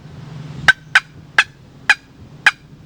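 Sharp hen turkey cutts struck on a box call with chalked lid, five crisp, loud clucks spaced unevenly about half a second apart over a quiet background.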